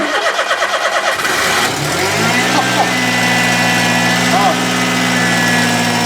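A small truck fitted with a supercharger, boost feeding the right side of the carburettor, cranks over on methanol and catches, settling into a steady loud idle with some revving, as people talk over it.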